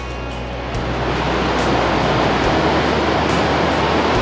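Unchalli Falls waterfall in foggy, misty surroundings at a low-water season, a dense continuous roar of falling water, loud and unbroken, swelling slightly after the first second.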